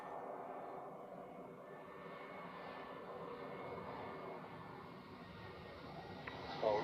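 A Swiss airliner in the new livery lands at Zurich, a faint, steady jet engine drone with a thin whine lingering in the distance, ending in a brief soft clatter.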